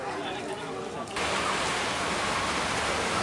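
Heavy rain pours at the Tirupati Balaji temple as a dense, steady hiss that grows louder after a second and then holds at full strength with no break.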